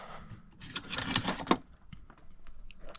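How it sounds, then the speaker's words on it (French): Ratchet wrench tightening the alternator bolts on a Ford Fiesta: quick bursts of metallic clicking crowd the first second and a half, then thin out into sparse, fainter ticks. "on prend le cliquet."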